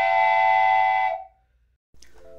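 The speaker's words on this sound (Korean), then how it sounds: "성남행 열차 출발합니다." A long, loud steady train whistle sounds as a train bound for Seongnam departs, holding a rich harmonic tone for about a second before cutting off; after a brief silence, fainter rail noise and a softer tonal sound follow.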